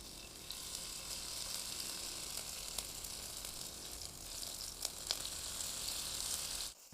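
Small chicken liver and rice fritters fry in oil with a soft, continuous sizzling hiss and a few faint pops throughout. The sizzle cuts off abruptly at the end.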